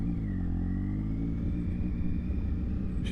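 Triumph Tiger motorcycle running on a dyno: a steady, loud engine drone with a slowly rising pitch as revs build, close and continuous for a few seconds.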